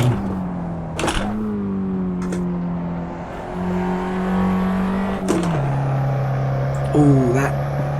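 Fiat 500 Abarth engine in Assetto Corsa on the Nordschleife, a steady buzzing drone through gear changes that dips and bogs down slightly, with a speaking voice over it.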